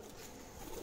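Pigeons kept on a rooftop loft coo softly and continuously, faint and low, with no voices over them.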